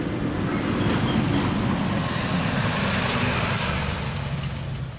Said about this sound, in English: It sounds like the bus is here.